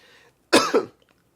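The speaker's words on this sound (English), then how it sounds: "What you just heard me coughing" One sharp, close cough in two quick bursts, followed by near silence.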